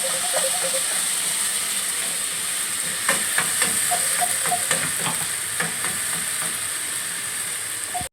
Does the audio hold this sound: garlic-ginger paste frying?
yes